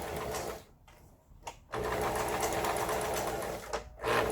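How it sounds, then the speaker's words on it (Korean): A 30-year-old Lion household sewing machine stitches fabric in steady, loud mechanical bursts, pausing briefly twice before running on continuously. "30년 아, 세월이 흐른 기계인데 이렇게 박음질이 잘 된다는 게 놀랍습니다"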